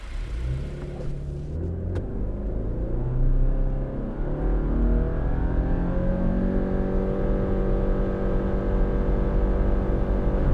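A 2024 Subaru Crosstrek with the 2.5-liter engine accelerates hard from a standstill, its engine drone rising steadily in pitch through a continuous loud rumble heard from inside the cabin.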